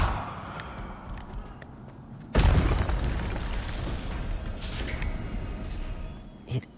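A fiery Incendio spell bursts out in Hogwarts Legacy with a sudden loud whoosh-boom, then a sustained crackling roar that slowly fades, with a short pop near the end.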